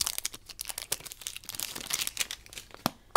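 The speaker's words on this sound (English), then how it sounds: "So let's just unwrap the item here." Foil wrapping on a Monsters University surprise egg crinkles and crackles up close in rapid, irregular bursts as it is peeled away.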